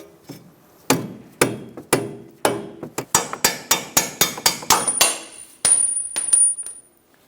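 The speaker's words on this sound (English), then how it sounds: "Using a soft face hammer, we're going to continue tapping the bolt out of the knuckle." A series of sharp taps from a soft-face hammer driving a bolt out of a steering knuckle on a Chevrolet Sonic, starting spaced out then speeding into a quick rhythmic run, close and loud, with a faint ringing.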